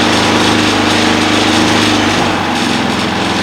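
A portable generator meant for boondocking runs steadily with a constant, even engine hum and a slight shift in tone partway through, loud and close with no talking.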